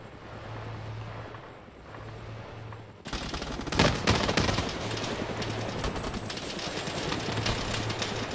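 Sustained 7.62 machine gun fire in a video game, aimed at a Russian Mi-24 Hind attack chopper, rattles steadily and loudly over a droning engine hum, intensifying sharply partway through into dense automatic bursts.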